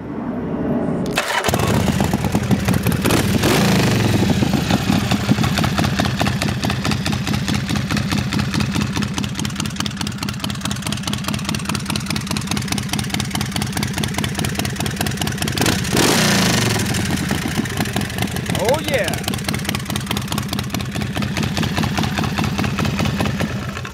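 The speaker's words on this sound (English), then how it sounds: "Let's fire this baby off and see what she sounds like." A 2004 ASVE chopper motorcycle engine cranks and fires, then settles into a loud, close, steady thumping idle with a slight burble and a brief rev partway through.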